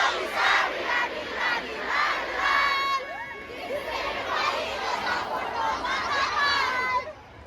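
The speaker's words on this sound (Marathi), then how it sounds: "जरा जोरदार टाळ्या संजू बिहारसाठी." A large festival crowd at Kalyan Mahotsav 2025 cheers and shouts loudly and steadily throughout, with rhythmic bursts of yelling and a high sustained tone running above the roar.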